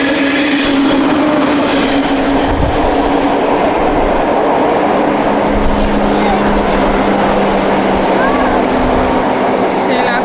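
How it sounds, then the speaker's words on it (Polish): A train passes close by on the rails, a loud, sustained rumble with a steady mechanical hum and faint wheel clatter, while people talk nearby. "O, chyba pociąg jedzie."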